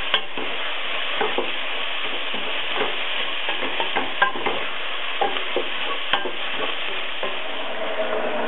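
Vegetables browning in a frying pan for a spiced lentil and mushroom dish sizzle steadily, with occasional stirring clicks and scrapes, close and continuous with no talking.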